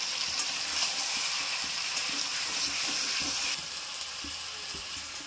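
Jackfruit chicken curry sautéing in a pan, a steady close sizzle with light scraping stir strokes through it, alone with no voices.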